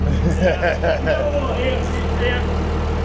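The RatBack car's engine idles steadily while warming up, a constant low rumble close by, with people talking over it.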